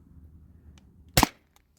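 A Sabre 68 home defense launcher fires a lightweight 3.6-gram nylon ball in a single sharp, loud crack, preceded by a low ambient rumble and faint ticks, with quiet afterward.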